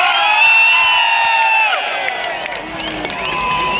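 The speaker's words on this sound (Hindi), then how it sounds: "Come on ladies and gentleman, जोरदार तालियां फॉर सलमान खान।" A large concert crowd at a Salman Khan live performance in Riyadh cheers and whoops with shrill, wavering screams over steady background noise, loud and continuous, with scattered clapping mixed in.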